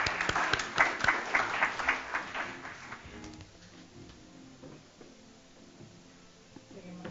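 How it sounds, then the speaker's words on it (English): An audience at a forum on Arctic investment applauds the Norwegian ambassador to Singapore with moderate, fairly distant clapping in a room that fades out after about three seconds, leaving quiet room noise. "Let's give the ambassador a round of applause as well."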